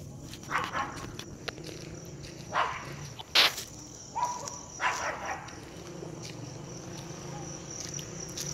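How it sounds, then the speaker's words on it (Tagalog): A small dog barks a few times in short bursts outdoors over a constant chirping of crickets, the barks fairly close and spaced apart. "Natatakot siya kasi may aso."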